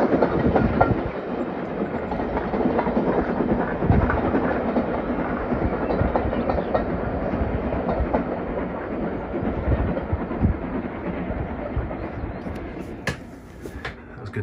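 Trains rolling past outside a model railway workshop, a steady close rumble with rhythmic clickety-clack of wagon wheels on rail joints that carries on throughout and eases slightly near the end.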